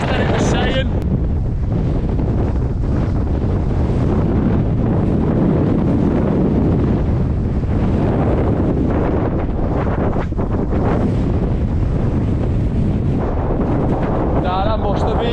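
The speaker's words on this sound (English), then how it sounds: "But this wind's a lot worse than it was saying." Strong, steady wind buffets the microphone on a Lake District fell summit above Wastwater, a loud continuous rumble and roar with gusty surges and brief bits of talk.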